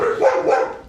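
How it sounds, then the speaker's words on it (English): Dogs barking indoors nearby, a loud run of overlapping barks packed into about a second, with no talk over them. "Doug's making my dogs bark around here"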